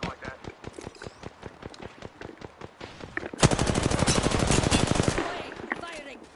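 Rapid automatic gunfire in the battle game Apex Legends, with a steady rattle of shots that swells into a dense, loud sustained burst before trailing off, while a voice talks over it.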